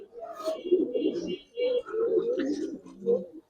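Male pigeon of a Giribaz or Army breed cooing in repeated throaty phrases close by, with other birds chirping faintly behind and someone talking between the calls.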